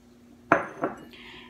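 Utensils clink against a container while water and sugar are mixed for basbousa dessert, two sharp close knocks followed by a faint scraping swirl.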